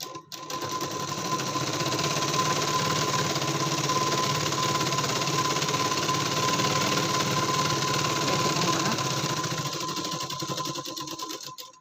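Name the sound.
sewing machine stitching a katori blouse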